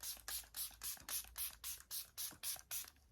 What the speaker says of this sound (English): So I'm just going to spray a generous amount of this all over my skin.